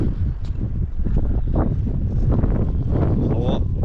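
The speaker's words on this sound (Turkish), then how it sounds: "rüzgar bayağı çoğaldı" Strong, rising wind buffets the microphone in a steady, loud rumble during March snowfall in a village, with faint rustling and some indistinct voices underneath.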